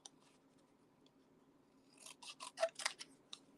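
Scissors snip through paper to fussy cut a craft element, a quick run of crisp, close cuts after a quiet start, with no talking.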